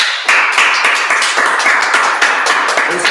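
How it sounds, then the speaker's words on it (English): Group clapping in a Friday night class in Durham, North Carolina, a steady, loud, close run of hand claps with a sharp repeating rhythm and little else. "All right, clap it up."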